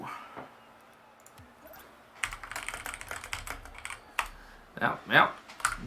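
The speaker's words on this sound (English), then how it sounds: "As soon as I'm typing it up, they join up" Typing on a computer keyboard during an online game league match: a steady patter of close key clicks that grows busier and louder toward the end, with a voice speaking faintly underneath.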